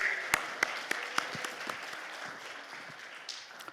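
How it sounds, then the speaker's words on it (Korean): Church congregation at a revival service applauding, sparse individual claps standing out sharply over a soft crowd background, with a few voices faintly present. "우리 하나님 앞에 영광의 박수를 드립니다"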